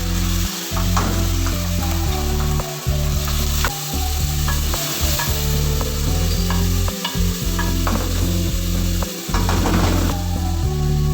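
A spoon scrapes and stirs through sizzling garlic-ginger paste with tomato paste in a pan, repeated rhythmic strokes over constant frying sizzle, close and loud.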